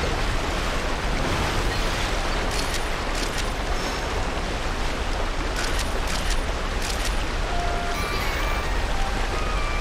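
A waterfall in New Pokemon Snap pours with a continuous, loud rushing hiss, steady throughout with a few brighter splashing bursts.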